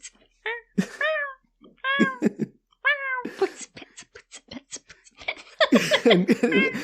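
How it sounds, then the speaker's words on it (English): Kittens wail plaintively in a string of high, rising and falling meows, one after another with short gaps, growing denser and more overlapping toward the end. "the plaintive wails of kittens"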